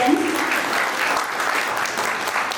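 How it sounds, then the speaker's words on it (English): Audience at a school annual day function applauds, a steady dense wash of many hands clapping throughout, fairly loud and continuous with no pauses. "please give a huge round of applause for yourself"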